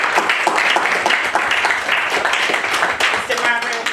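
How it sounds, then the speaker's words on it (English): Audience applause for a panelist at a panel event, with energetic, dense clapping from a crowd, loud and close, mixed with voices and a few cheers throughout. "will you please give him a round of applause?"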